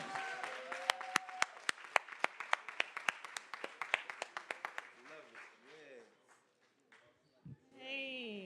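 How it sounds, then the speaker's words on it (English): At a St. Louis YouthBuild commencement, a small group claps in a quick, sparse run of distinct hand claps under an amplified voice, fading after a few seconds into speech. "give a big round of applause"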